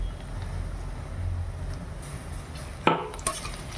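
A utensil stirs garam masala, onions and ginger-garlic paste in a pan for country chicken curry, soft scraping and sizzling with a couple of sharp metallic clinks near the end, close and moderately loud.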